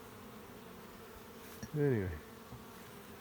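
Honeybees buzz around wooden hive boxes during a morning walk, a brief, fairly close droning swell rising and fading over about half a second, with a short spoken word nearby.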